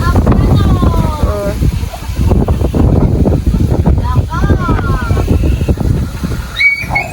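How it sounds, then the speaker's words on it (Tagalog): Strong wind buffets the microphone in loud, rumbling gusts while people talk over it. "Mahangin dito guys."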